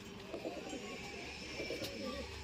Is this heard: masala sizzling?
no